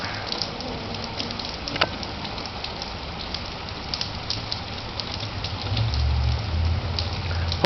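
Rain falls steadily on roofs during a sunny spell with thunder and lightning about, a constant close patter and hiss with a low rumble building briefly near the end.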